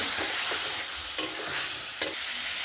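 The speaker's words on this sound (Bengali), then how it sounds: "অল্প জল দিয়ে দিলাম, দিয়ে মশলাটা ভালো করে কষে নেব।" Spice masala with a little water and green chillies being stirred and fried for a cauliflower and koi fish curry, with a steady broadband sizzle and a few sharp scraping stir strokes, close and alone.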